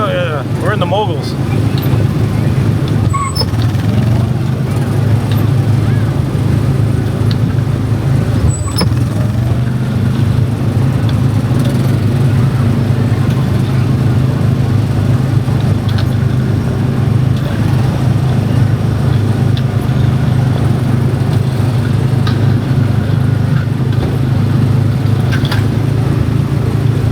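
Small gas-powered car engine on the Tomorrowland Speedway ride, a continuous loud droning hum running steadily throughout, with faint voices underneath.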